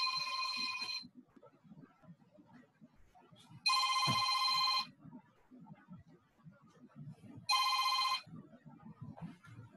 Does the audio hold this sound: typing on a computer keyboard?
no